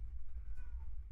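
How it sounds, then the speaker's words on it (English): A house cat crying with a short, faint meow over steady low background rumble, heard alone with no talking. "my cat's crying for no reason."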